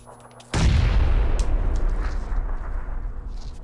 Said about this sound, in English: this guy's throwing nades